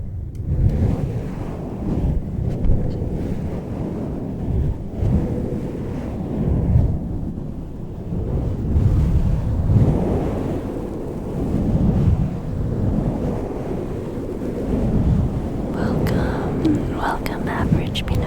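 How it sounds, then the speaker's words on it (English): Rolling ocean waves during an ASMR stream surge and recede in a continuous low rush with gusty wind noise, while a soft voice murmurs quietly over the top. "the rolling waves."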